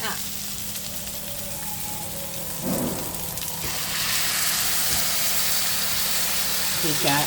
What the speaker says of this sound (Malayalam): കാഷ്യൂ അരച്ച് തേങ്ങാപ്പാൽ അതുകൂടെ നമുക്കൊന്ന് ഒഴിച്ചാലോ?